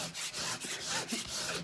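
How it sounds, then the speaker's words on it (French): Corners of a diamond painting sheet being peeled back, a close, soft rubbing and scraping of film and paper that runs steadily for under two seconds with no voices. "je vais hop décoller mes coins"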